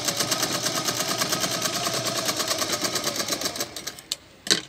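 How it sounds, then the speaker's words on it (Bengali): A sewing machine stitching pieces of pink teddy bear fabric together, a close, rapid and steady mechanical rattle that slows and stops near the end, with no talk. "এভাবে দুটো পাট একসাথে করে এভাবে সেলাইটা হবে।"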